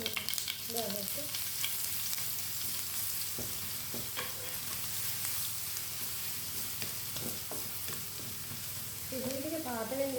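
Garlic fries in hot oil with mustard seeds, a steady close sizzle with occasional stirring scrapes and pops, running alone.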